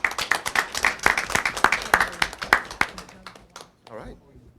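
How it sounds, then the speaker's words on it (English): A short burst of clapping from a small group, sharp claps fading out after a few seconds with voices mixed in. "I'd like to have a round of applause for that."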